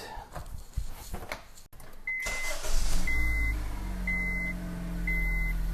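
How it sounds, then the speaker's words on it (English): A 2006-2011 Honda Civic is started up. A short crank catches into a low, steady idle hum, while repeated electronic dashboard chimes sound at roughly one-second intervals, close and clear. "Time to start the car up."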